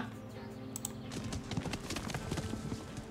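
Hooves of a saddled horse clip-clop steadily across farmland in the video game Above Snake, ridden at an even gait, with a soft background hum and faint clicks throughout.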